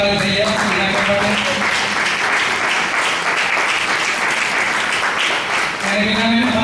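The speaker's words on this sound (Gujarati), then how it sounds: "તો એને માટે પણ આપણે જોરદાર તાળી થઈએ એના માટે" A seated audience at a senior citizens' centre in Surat claps loudly for an honoree receiving a memento at a felicitation ceremony, a dense sustained round of applause with faint voices and a tonal hum at the start and end.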